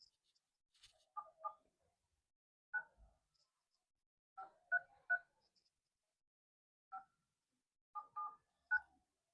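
Keypad tones from a phone number being dialed, a run of short separate beeps in irregular groups, close and clear with no talking over them.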